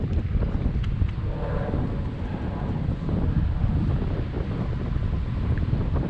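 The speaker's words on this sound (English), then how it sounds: "Now the breeze is really coming in hard" A strong breeze during bass fishing from a boat, with wind buffeting the microphone in a continuous, loud, low rumble and gusty swells, and no voices over it.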